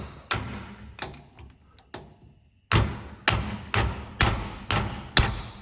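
A hammer drives a bushing out of the suspension of a 1970 Chevrolet Monte Carlo. Sharp metallic blows come close and loud, a few scattered hits first, then a steady run of about six evenly spaced strikes.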